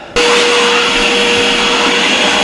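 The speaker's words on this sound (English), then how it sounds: "The dog does not like the vacuum." A vacuum cleaner switches on inside a toy hauler trailer and runs loud and steady close by with a constant whine, no talking over it.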